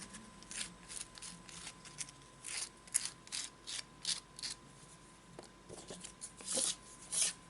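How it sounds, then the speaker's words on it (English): Sandpaper is rubbed in short, repeated strokes along the edges of a dried air-dry clay jewelry dish, making close, soft scratchy rasps in an uneven rhythm with quiet gaps between passes. "I will use some sandpaper in order to make the edges smooth"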